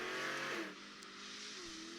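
A Cobra race car engine revs hard and loud, then eases off to a lower, steadier drone as it accelerates through the gears.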